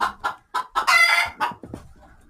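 Bantam chickens of assorted colours cluck in a quick series of close, loud bursts while a rooster crows once in the middle, at a rural winter shelter in West Virginia.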